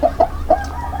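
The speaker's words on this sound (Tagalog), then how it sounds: "Pwede dito manok, laki ng manok oh." Clucking from a large chicken close by in a rural Philippine setting, several short bursts within a second with a low background hum.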